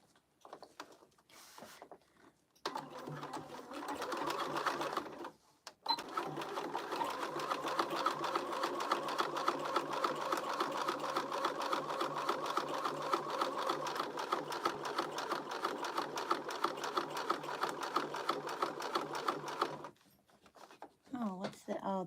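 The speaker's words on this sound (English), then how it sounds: "All right, let's top stitch it" A sewing machine top-stitches a crossbody bag in one long steady run of rapid rhythmic needle strokes, close and loud, with brief starts and pauses at either end and a voice speaking now and then.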